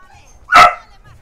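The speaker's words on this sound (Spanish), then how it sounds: "Puto perro, ahora empieza él." A dog in a Bioshock Infinite game scene lets out a single sharp, loud bark, short and alone against quiet background.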